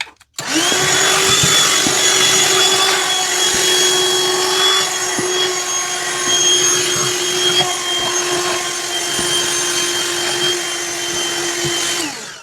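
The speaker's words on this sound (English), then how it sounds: "now I'm going to vacuum up those edges as well." A vacuum cleaner sucking up trimmed fabric edges from a Shannon Fabrics Bambino Cuddle kit: it switches on loudly, runs as a steady whining drone with small clicks and thumps as pieces are pulled in, then shuts off.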